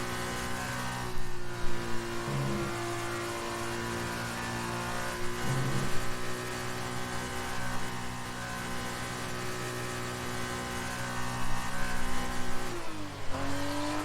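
An F2 race car engine held at high revs on its out lap at the Mexico circuit, a steady sustained drone with brief dips as gears change, loud and alone.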